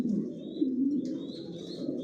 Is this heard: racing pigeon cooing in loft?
yes